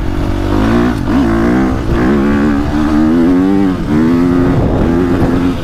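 A 2025 KTM 350XCF off-road motorcycle is ridden close by, its engine revving up and down loudly and continuously with brief dips between throttle bursts.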